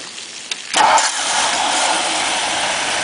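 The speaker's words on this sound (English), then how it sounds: "now we're going to go ahead and start the car" A 1957 Ford Thunderbird convertible's engine cranks briefly and catches, then settles into a steady, smooth, fairly quiet idle that runs on alone at close range.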